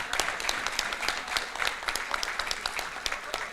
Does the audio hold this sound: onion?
no